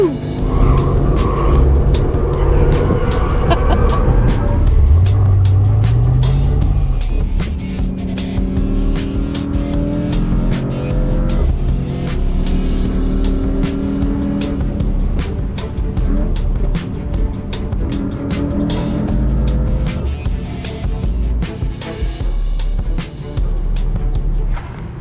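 A 2021 Mercedes-AMG E63 in drift mode, its engine roaring loud and close with rising and falling revs, tires scrubbing and rumbling beneath, and sharp clicks and rattles running through the whole run.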